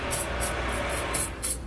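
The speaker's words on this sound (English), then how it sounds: "I'm going to spray the hole that we drilled, hopefully preventing any kind of rust or corrosion" Spray paint hisses from an aerosol can onto a freshly drilled access hole in the bare metal frame of a 2018 Jeep Compass, in about five short bursts over a steady low hiss.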